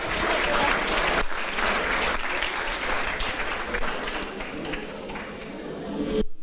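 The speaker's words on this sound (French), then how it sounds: "vous pouvez tous vous applaudir parce que c'est bien" A graduation ceremony audience at a university institute applauds in a continuous, moderately loud wash of clapping that holds steady for several seconds.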